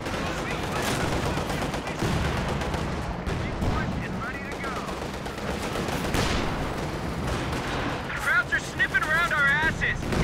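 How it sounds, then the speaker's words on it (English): Katyusha rocket artillery striking in a Company of Heroes 2 match, a dense barrage of overlapping blasts and crackling impacts that keeps up across the whole stretch, with a voice talking over the din. "Oh, that's a nasty Katyusha hit."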